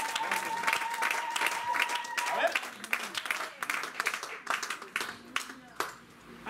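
A church congregation breaks into lively applause, many hands clapping in a dense, uneven burst with voices and cheers mixed in, the clapping sometimes fading and swelling again across the room.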